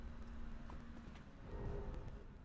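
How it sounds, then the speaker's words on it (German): Horse hooves clip-clop in a steady, moderately quiet rhythm as a rider travels through the Elden Ring video game, set against a low ambient background with no voices. "Lass mal kurz von meinem Pferd absteigen."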